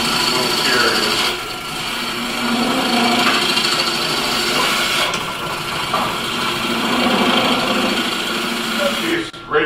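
Wood lathe turning a natural edge bowl, a big chisel cutting the spinning blank with a loud, continuous whirring hum and scraping texture throughout, with a voice talking over it.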